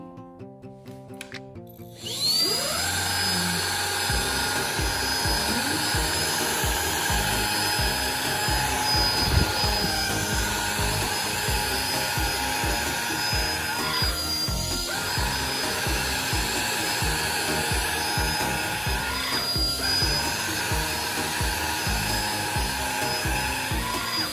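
A Kurumi KV-0 cordless vacuum cleaner switching on with a click, then running at a steady high-pitched whine with a constant motor hum, close and loud, with slight pitch wobbles.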